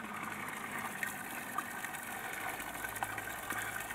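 Garden pond water trickling and splashing steadily as a waterfall pump feeds it straight into the pond instead of down the rock; a constant, moderately close running-water wash with no one speaking.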